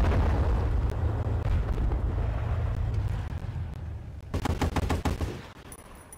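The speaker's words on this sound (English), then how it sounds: "You have both a machine gun and coaxial machine gun in your turret." In Battlefield 1943, a tank turret machine gun fires a rapid burst near the end, sharp and loud above rumbling engine and battle noise.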